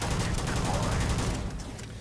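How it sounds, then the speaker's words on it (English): Rapid automatic gunshots in the space game Starfield, a dense, close rattle of fire sustained for about two seconds before tapering off. "When I shoot it, it actually pushes me backwards."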